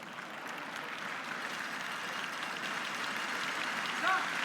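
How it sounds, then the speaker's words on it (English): Spectators at a curling match applaud Ross White after a short run-back double for four, a soft, distant patter of clapping that stays low and even throughout. "that applause you hear is for Ross White"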